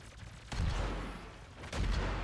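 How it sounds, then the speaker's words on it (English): Gunfire in the fast-paced shooter DOOM during a multiplayer deathmatch: dense bursts of shots arrive in two heavy volleys, with continuous battle noise between them and no voices. "Oh, someone's shooting at me."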